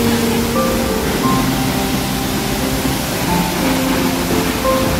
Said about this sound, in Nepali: पाहाडको खोजबाट बगेको पानी कहाँबाट निस्केको होला यो पानी